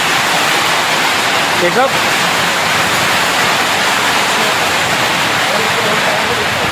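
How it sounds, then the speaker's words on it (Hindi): Heavy rain pours down at an outdoor resort barbecue, a loud dense steady hiss filling the scene throughout, with a voice speaking briefly over it. "लेकिन बारिश इतनी तेज़ है"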